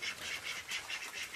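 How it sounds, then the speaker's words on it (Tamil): A duck quacks repeatedly in quick, rhythmic bursts, fairly faint and a little distant. "வாத்து ரொம்ப ராவடி பண்ணுது."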